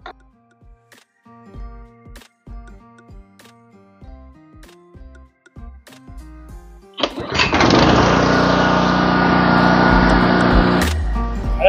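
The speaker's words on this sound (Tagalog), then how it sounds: "i-testing na natin yung ating generator" A portable gasoline generator is being tested. After a run of rhythmic ticking and clicking, its engine starts abruptly and runs loud and steady close by for several seconds, then cuts out.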